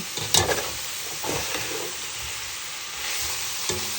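Ground beef and meatballs fry in a pan for Filipino spaghetti, a steady close sizzle broken by several scraping stirs, with no talking.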